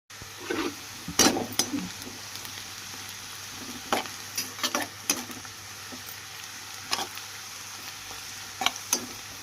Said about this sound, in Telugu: మనకు ఉల్లిపాయలు అయితే ఫ్రై అవుతున్నాయి కదా.